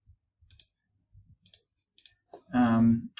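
Computer mouse double-clicking while grouping floors in floor-plan software: quiet, sharp clicks come in spaced pairs, followed by a short voiced sound at the end.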